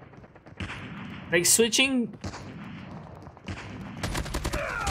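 Hip-fire gunshots in Call of Duty Mobile played from a third-person view, heard as short bursts between stretches of someone talking over the game, with a louder rapid volley near the end.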